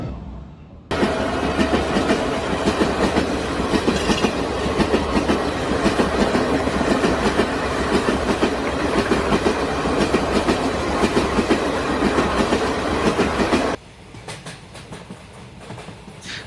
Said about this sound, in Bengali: ট্রেন আসছে এবার নিশ্চিন্তে বাসায় ফিরতে পারবো